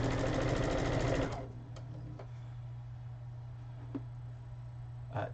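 A sewing machine stitches a baby quilt in a close, busy run that stops after about a second, leaving a steady low hum with a few faint clicks and taps.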